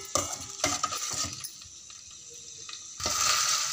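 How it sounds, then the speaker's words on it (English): Rice ada is stirred in ghee in a pan, giving a few light metallic clinks and scrapes close by, then a quieter pause before a louder sizzling, stirring stretch near the end. "After adding the rice ada, just mix the ada in the ghee for a minute."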